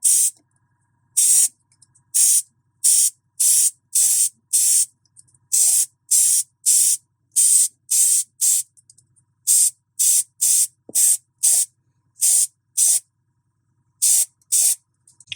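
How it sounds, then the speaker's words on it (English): Repeated short bursts of hissing airbrush spray applying primer to a Warhammer 40k Space Marine miniature, about two dozen evenly spaced pulses separated by brief silences, close and steady. "I started spraying away from the model"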